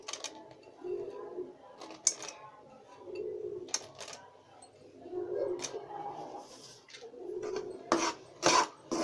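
Almonds, pistachios, kernels and peanuts being dry-roasted in a pan make intermittent rasping scrapes as a spoon pushes them around, each stroke about a second long, with quiet gaps between.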